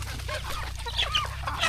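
Native country chickens cluck and call on a farm at feeding time, a steady chatter of several birds under a constant low hum, moderately near.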